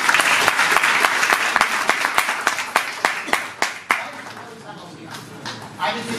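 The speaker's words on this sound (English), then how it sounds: "you have to clap even harder" An audience at the Mumbai Fest claps, starting as a thick burst of applause with loud distinct claps that thin out and fade toward the end, leaving a few scattered hand claps.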